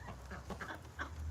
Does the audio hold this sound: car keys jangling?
no